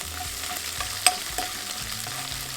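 Mustard seeds, curry leaves and crushed ginger frying in hot oil give a steady close sizzle with a few sharp pops and light stirring scrapes, no voices.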